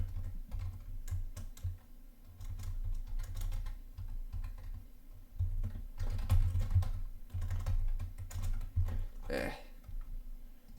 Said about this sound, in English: Ignore my terrible typing skills.